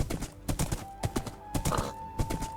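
Hooves of a summoned horse in Project Architect 2 clop in quick uneven bursts, close and fairly loud, with a faint steady tone underneath.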